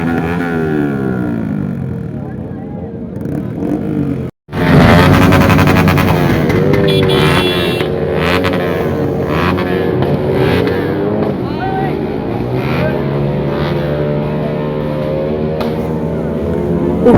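A Kawasaki ZX-10R or Z900 motorcycle does a burnout, its rear tyre spinning against the ground while the engine revs hard and steadily, loud and close, with voices talking over it.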